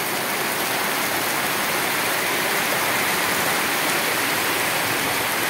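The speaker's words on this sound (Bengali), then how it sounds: "এদের ঘরের সামনে বৃষ্টি পড়তেছে" Rain beats down before a pigeon house, an unbroken, close, roaring patter of drops striking surfaces, free of speech.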